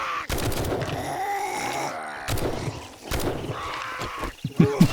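Assault rifle fire in the survival video game 7 Days to Die, with sharp bursts of shots breaking through dense, busy game noise and groaning creatures, loudest near the end.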